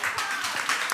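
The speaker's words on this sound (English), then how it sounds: "Well, I don't think you should really clap for it" Audience applause, a brief, even patter of many hands clapping at moderate loudness with no voices over it.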